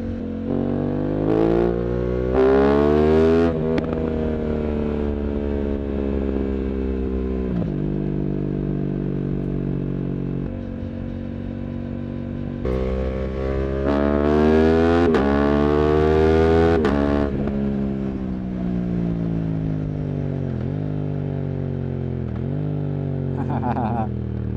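An Aprilia RS660 motorcycle revs up and down through several gear changes at night in Belgrade, its whine rising and falling loudly as it rides along.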